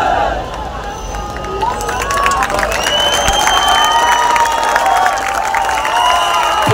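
Crowd cheering, shouting and clapping for a Govinda pathak's eight-tier human pyramid salute at a Marathi festival, a dense, lively roar with whistles and scattered claps, continuous and fairly close, with voices mixed in.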